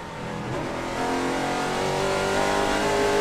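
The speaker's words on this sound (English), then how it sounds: "You hear them getting out of the gas." NASCAR Camping World Truck Series race trucks at Memphis in 2009, a loud, sustained engine roar as they come off the throttle through the turns.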